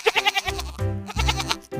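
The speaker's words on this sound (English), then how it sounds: "Goat." A goat bleats in a series of wavering, nasal calls, loud and close, with no talk over it.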